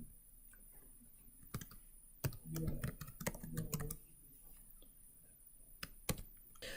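Code being typed on a computer keyboard: scattered single key clicks, then a quick cluster of taps in the middle, followed by a few isolated presses, all faint and close.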